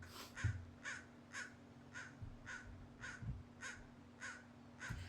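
A crow gives a steady series of harsh caws, about ten evenly spaced calls over five seconds, clear and moderately close, with no talking.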